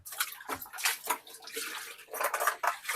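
A pan being filled with pipe water outdoors in Portland, Jamaica: a steady splashing, running stream with clinks of the pan, close and fairly loud, no talking.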